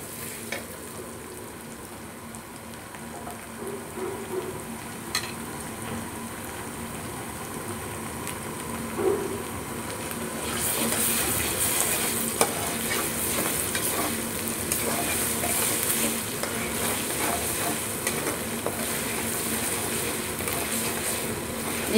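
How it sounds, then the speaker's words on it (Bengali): Ginger-garlic paste fries in oil in a pan for a spicy boal fish curry, a steady close sizzle with stirring scrapes that grows noticeably louder and fuller partway through, with no talking. "আদা বাটাটা একটু ভেজে নেব।"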